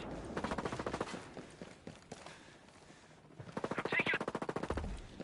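Automatic gunfire in the tactical shooter game Ghost Recon Breakpoint: two long bursts of rapid, evenly spaced shots, the first trailing off with scattered single rounds, then a gap before a louder, denser second burst.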